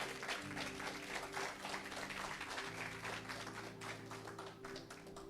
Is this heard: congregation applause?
yes